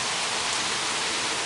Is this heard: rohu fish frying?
no